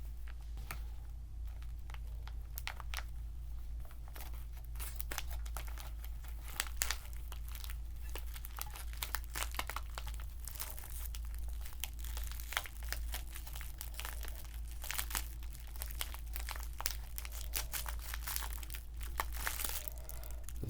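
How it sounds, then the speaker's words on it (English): Thick plastic snack packaging is handled and worked open up close, producing continuous crinkling and crackling with sharp intermittent crunches against a quiet low background hum. "I may need to get some scissors or a knife to open this up."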